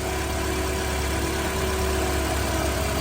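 A Honda CRX HF engine runs steadily at idle with a constant droning hum and a faint whirring tone from the compressor clutch, close and unbroken.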